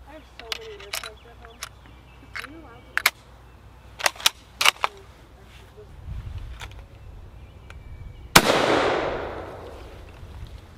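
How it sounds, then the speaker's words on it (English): A Norwegian Krag 1912 carbine fires PMC ammunition: one sharp, loud gunshot outdoors followed by a broad rushing echo and rumble, after a stretch of scattered clicks and light handling knocks. "first shots with the Norwegian Krag with the PMC."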